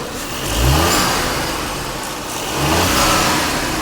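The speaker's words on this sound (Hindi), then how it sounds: "चलो इसके पावरफुल V6 के एक बारी भाई पावर देखते हैं कि कैसी आवाज निकालता है, साउंड कैसा है इसका।" Audi RS Q8 V6 engine revved twice from idle, two smooth, fairly quiet swells of mid-pitched engine sound about two seconds apart, heard from nearby outside the car.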